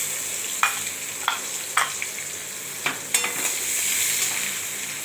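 Sliced onion sizzling in a pan with garam masala and bay leaf for an egg curry, a steady hot hiss broken by about half a dozen sharp spatula scrapes, the frying swelling slightly louder toward the end; nobody talks.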